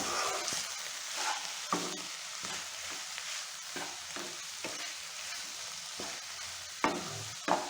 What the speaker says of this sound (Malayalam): ഇനി ഇതൊന്ന് നന്നായിട്ട് ഇളക്കി കൊടുക്കാം